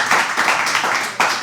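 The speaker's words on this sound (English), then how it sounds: "Everybody clap for that." An audience at a Black History Month speaker series event bursts into loud, close applause, a dense wash of many hands clapping that swells at the start and again just before it ends.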